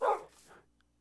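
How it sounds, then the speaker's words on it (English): A dog in the Craftco video game, in a sparse jungle setting, gives a single short bark right at the start that fades out quickly, with quiet game ambience after it. "that's a dog."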